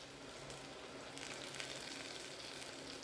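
Two dried red chillies frying in hot oil in a pan while cooking snake gourd stir-fry, a steady soft sizzle and crackle throughout with no voices.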